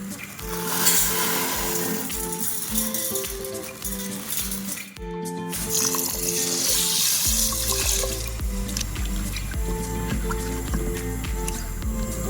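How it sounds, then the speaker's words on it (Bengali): Lentils (dal) being washed in water, with steady running and splashing, sloshing and light clinks of a container in a kitchen, continuous and fairly close throughout. "ডালটা এবার আমি ধুয়ে নেবো"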